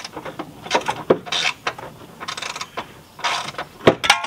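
A ratchet loosens the front shock absorber bolt on a Renault Koleos, giving uneven bursts of clicking and metallic rattling with short pauses between strokes, fairly close.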